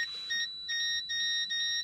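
Repeated electronic alarm beeping, a high tone pulsing about four times in a steady rhythm, fairly faint and with no voices.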